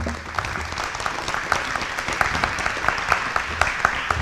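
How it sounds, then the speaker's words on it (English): A crowd applauds steadily, a dense patter of many hands clapping at moderate distance, continuing without pause throughout. "let's give him a round of applause"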